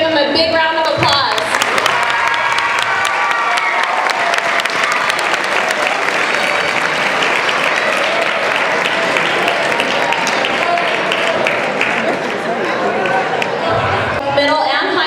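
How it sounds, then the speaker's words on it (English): A school assembly audience applauds honor roll students, steady, dense clapping filling the hall for about fifteen seconds, with crowd chatter mixed in and fading near the end. "Let's give them a big round of applause."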